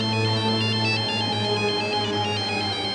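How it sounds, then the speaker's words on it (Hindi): A telephone ringtone plays continuously, a bright repeating electronic melody with steady tonal pulses, loud and close with no talk over it. "बार बार फोन कर दी रही थी"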